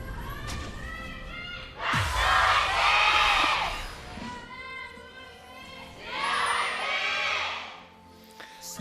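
Esports fans in the Nexon Arena at the KeSPA Cup 2016 League of Legends quarterfinal between ROX Tigers and Jin Air Green Wings, roaring in two big loud swells with shouting, separated by a quieter stretch.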